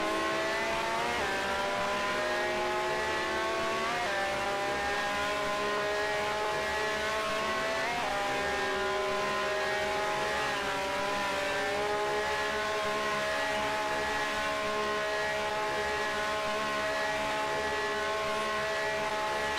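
Race cars in the Grand Prix Legends racing sim whine loudly through sustained high engine revs, pitch rising and dipping through gear changes over a continuous run, with no voices.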